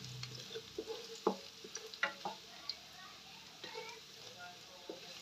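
Pancit bato noodles tossed in a pan, with soft, scattered clinks and scrapes of utensil on metal and a faint sizzle underneath; the sound is quiet and close, the taps irregular, with no speech over it.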